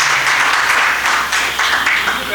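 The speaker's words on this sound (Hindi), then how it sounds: "जोरदार तालियों द्वारा आप उनका सम्मान करें" Crowd applause for a revered Acharya at a morning devotional gathering, a steady dense wash of clapping running throughout with a faint voice mixed underneath.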